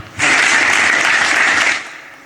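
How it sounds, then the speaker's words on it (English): Audience applause at a storage and data resiliency conference in India, a loud, dense burst of clapping from a seated crowd that holds steady, then fades out. "let's give a big round of applause to them"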